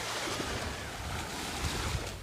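Wind and surf at the edge of clear water on a breezy afternoon, a steady roar of wind with waves washing in and thumping faintly underneath.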